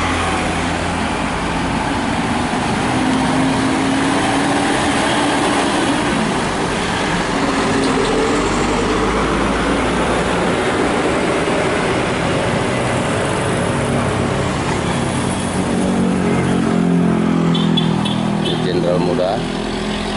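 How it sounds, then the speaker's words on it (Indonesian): Busy roadside where trucks queue to unload, with many vehicles passing in a dense, continuous rumble of engines and tyres, a louder pass swelling near the end. "jadi ramai, banyak kendaraan lalu lalang ya"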